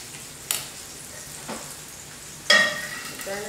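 Squash sautéing in a pan, a low soft sizzle with a few scattered clinks and scrapes of a utensil, close and fairly quiet.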